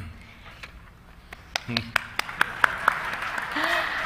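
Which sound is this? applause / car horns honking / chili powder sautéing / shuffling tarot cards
applause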